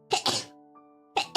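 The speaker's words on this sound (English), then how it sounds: "I sneezed a lot today." Two sneezes, each a quick double burst close to the mic, separated by a short quiet gap.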